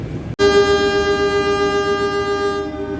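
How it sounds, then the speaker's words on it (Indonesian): A passing train sounds its horn loud and close in one long sustained blast over the rumble of rail traffic, heard from aboard the KA Menoreh train in Indonesia. "ini papasan dengan kereta api Menoreh yang saya naiki"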